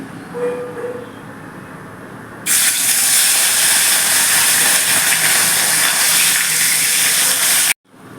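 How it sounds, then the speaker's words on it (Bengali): Katla fish coated with turmeric and salt goes into hot mustard oil in a wok: after a quiet start, a sudden loud, roaring sizzle bursts in and holds steady for about five seconds before cutting off abruptly. "কড়াই বসিয়ে সর্ষের তেল দিয়ে দিয়েছি, তেলটা গরম হয়ে গেছে। এবার আমি মাছটা ছেড়ে দিচ্ছি।"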